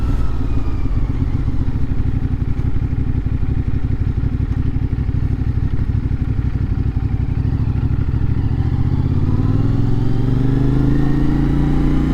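A CFMoto 450SS motorcycle engine while riding, a loud, continuous throbbing drone with rattly texture that climbs in pitch near the end as the rider accelerates, heard close up with no talking.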